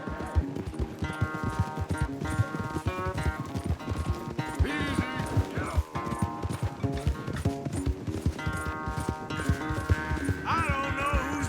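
Horses gallop in a race in the Western video game Red Dead Redemption 2, rapid hoofbeats pounding under game music, with voices speaking over the run and a brief whinny.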